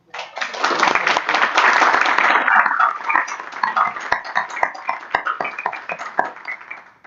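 Closing applause from a small audience at the end of a lecture on performance-based design, thanking the speaker Marcos Lucilio. A burst of clapping swells in the first seconds, then thins out into scattered individual claps that trail off.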